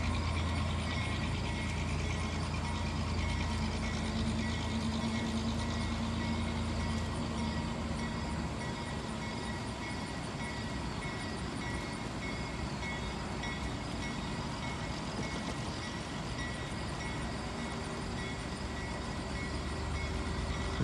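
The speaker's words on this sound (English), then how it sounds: "And here comes the train." Freight train rolling through a small-town downtown in Germantown, a steady low rumble and rail noise holding loud and continuous throughout, with faint tonal squeals near the start and no talking.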